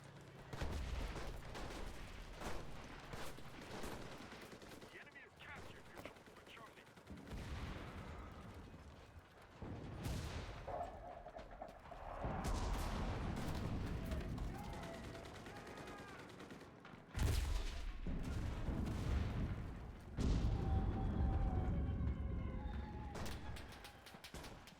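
Gunfire and explosions fill a World War II battle in the video game Enlisted during the Moscow campaign, with continuous rattling shots, heavier booms and machine-gun bursts layered at varying distances through the whole stretch.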